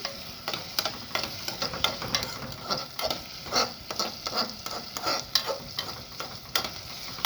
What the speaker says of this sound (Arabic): اهو نفضل نقلب فيها كده لحد البصله دي ما تحمر